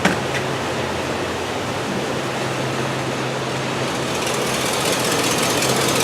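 A car engine with a misfire idles steadily, heard from close behind at the tailpipe as a loud, constant low rumble and exhaust hiss throughout, no voices.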